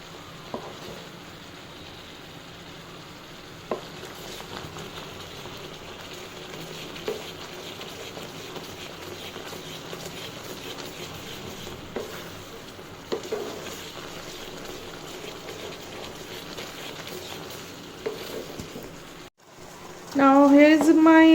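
Strawberry jam bubbles and sizzles in a pan, thickened and darkened at the edges, with steady soft frying texture and occasional stirring scrapes throughout, ending in a brief louder burst.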